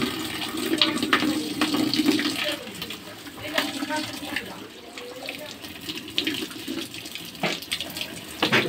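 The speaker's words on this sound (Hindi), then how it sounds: "जो फिलहाल इसमें हम गर्म पानी डाल रहे हैं" Hot water pours steadily into the drum of a Hyundai 8.5 kg washing machine, a continuous splashing gush with someone talking over it.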